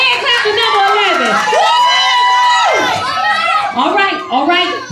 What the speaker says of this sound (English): you gonna give a hand clap to number 11